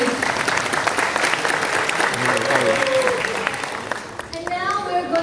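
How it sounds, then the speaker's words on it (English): An audience at an academic conference gives a round of applause after a university team's presentation, dense clapping that carries on and thins toward the end as a voice starts speaking over it. "please once again give round of applause for Tokyo Institute of Technology."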